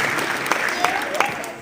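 Audience clapping at a school winter band concert, a dense, even round of applause in a hall that runs throughout, with a voice over it.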